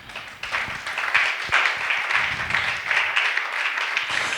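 A church congregation applauding and cheering to praise the Lord, steady crowd clapping throughout with a few voices mixed in.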